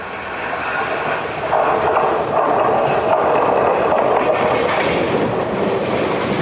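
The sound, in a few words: limited express train Ryomo arriving at station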